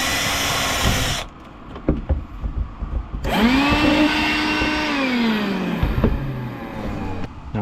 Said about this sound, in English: I tend to use the budget drill for these light duty things